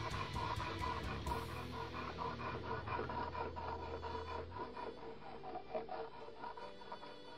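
A chipped switchblade knife blade held in a vise is stroked along a diamond sharpener, giving a quiet, steady rasping scrape in a rhythmic back-and-forth pattern with no talking.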